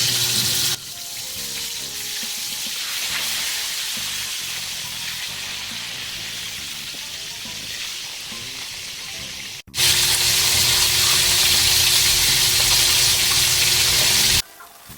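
Fish frying in hot oil for escabeche, a loud, steady, close sizzle that fills the whole stretch, briefly dropping and then surging louder again, with no talking.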